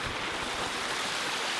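Rushing waterfall water pours in a steady, dense broadband roar, continuous and close with no pauses.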